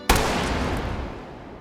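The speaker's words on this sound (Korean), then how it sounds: "총성으로 날려버립니다." A single sharp gunshot rings out in a scene from the Korean film A Bittersweet Life, a loud sudden crack followed by a long, fading echoing tail, with no voices.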